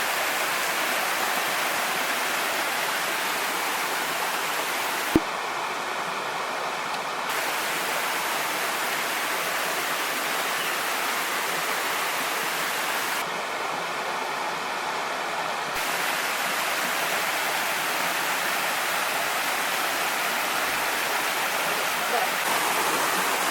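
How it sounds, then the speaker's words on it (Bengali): A forest waterfall in the Duarsini jungle rushes in a steady, loud hiss of falling water that stays even and unbroken, close and filling the whole stretch. "অদ্ভুত সুন্দর একটা ঝর্ণা আর কি।"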